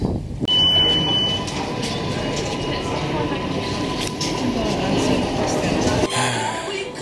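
A steady, loud rumble of a New York City subway train running underground, with a high electronic tone briefly sounding early on, then a change near the end.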